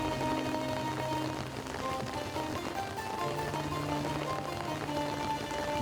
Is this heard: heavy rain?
yes